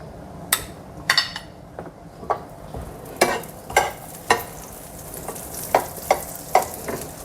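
Butter-fried bread omelette crackles in a pan with steady soft sizzle, punctuated by a series of sharp clinks and scrapes of a spatula or utensil against the pan, close and moderately loud.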